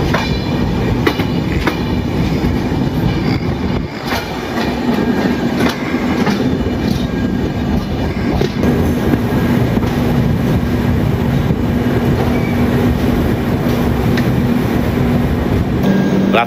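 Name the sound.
Samaleswari Express train running after leaving Koraput Junction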